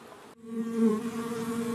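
Honeybee swarm buzzing loudly and steadily around a small cluster in a hive box with comb started on a cleat, a dense continuous drone after a brief quiet moment at the start.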